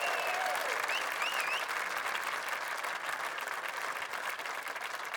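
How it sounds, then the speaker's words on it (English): Crowd at a live Irish folk concert in Dublin giving sustained applause, a thick continuous wash of clapping with a few whistles and cheers rising above it, steady and full throughout. "give him a nice round of applause"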